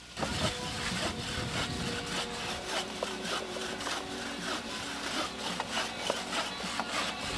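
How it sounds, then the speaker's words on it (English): A handsaw rasps through a tree trunk in steady back-and-forth strokes, close and continuous, with a faint engine hum behind it. "they are trying to remove it with a handsaw"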